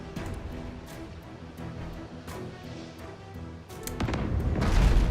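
Ship cannons in the video game Abandon Ship fire repeatedly, a series of dull booms and pops over a low rumbling battle backdrop, building to a heavier, louder barrage at the end.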